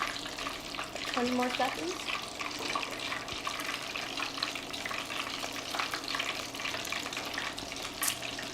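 Crab cakes frying in a pan give a steady, close hiss and crackle that runs the whole time, with brief talk over the sizzle.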